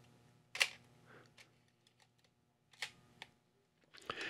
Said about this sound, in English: So when you do tension the shutter and wind to the next frame